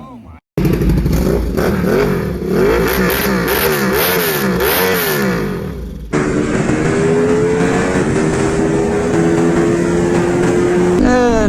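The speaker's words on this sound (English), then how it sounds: "The bike sounds good. I took the baffles out for the occasion." A motorcycle with its exhaust baffles removed runs close by at a bike night block party in Austin, Texas, a loud, raw, rumbling drone with rising and falling revs, then a steadier idle.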